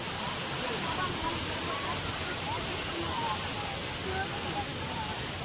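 Water rushes at Edupayala Vanadurga temple as a constant, broad roar that fills the whole scene at steady loudness, with voices faintly present beneath it.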